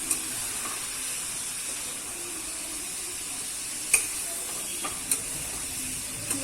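Coconut milk cooking down in a pan as homemade coconut oil separates gives a soft, steady hiss and bubbling, with a few sharp spoon clicks from stirring now and then, close by and without speech.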